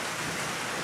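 Steady rain hisses close and loud for under a second, a dense, even wash of drops with a faint low rumble beneath and nobody talking.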